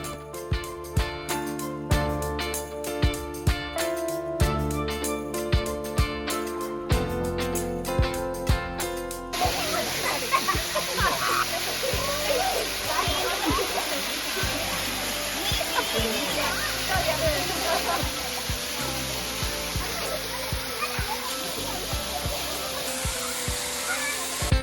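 Ezharakund waterfall in Kannur: a steady broadband rush of falling water that begins about ten seconds in and follows a stretch of music, continuing loud and unbroken to the end.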